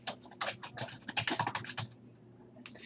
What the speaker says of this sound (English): Place your cursor here and type the name of your first module.